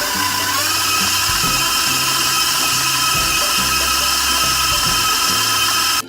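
An electric mixer creams butter and sugar for lemon bars, giving a steady, loud whirring hum that runs unbroken and close throughout.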